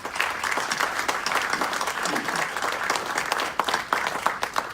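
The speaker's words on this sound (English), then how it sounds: "Can we give them a round of applause, please?" Steady applause from a crowd at a city council meeting, dense clapping filling the whole stretch at an even, moderately loud level.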